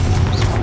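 Confringo blasting spell from the Hogwarts Legacy video game: a short, loud burst of crackling, roaring noise that fills the whole moment without a break.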